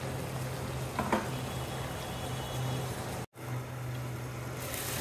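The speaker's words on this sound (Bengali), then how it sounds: "ভালো করে কষানো হোক, তারপর ঝোল দিয়ে দেবো।" Shing fish curry being sautéed in a pan gives off a steady, even sizzle that runs throughout, over a low background hum, with one brief drop to near silence partway through.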